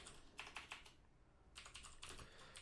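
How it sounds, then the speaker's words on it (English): Quiet bursts of keystrokes on a computer keyboard, a few quick clustered taps, a pause, then another short run of typing, close and soft with no talking. "I'm going to type export"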